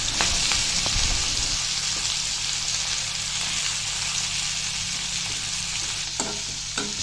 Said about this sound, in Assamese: তেলখিনি গৰম হোৱাত 4টা শুকান জলকীয়া মই দি দিছোঁ, লগতে এয়া পিঁয়াজখিনিও দি দিছোঁ।